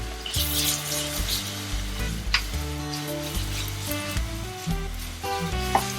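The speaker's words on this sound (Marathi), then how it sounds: "आता टाकूया 2 चमचे आलं लसणाची पेस्ट" Ginger garlic paste sizzles with light-brown onions in a pan for Irani chicken kheema, a steady hiss running beneath prominent background music.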